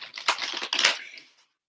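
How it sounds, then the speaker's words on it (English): A deck of unicorn-themed cards is shuffled once, a quick close riffle of crisp papery flutters lasting about a second before falling silent. "Let me give them a good shuffle."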